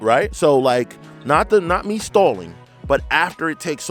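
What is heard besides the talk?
No everyday noises stand out.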